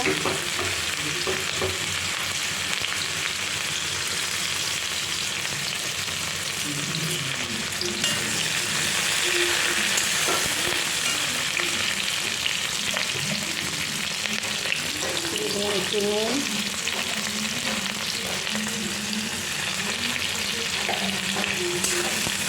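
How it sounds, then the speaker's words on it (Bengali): Onions fry in hot oil with cumin seeds in a wok, a continuous close sizzle with occasional stirring scrapes and bubbling pops throughout. "পেঁয়াজটাকে ভালো করে ভেজে নিই"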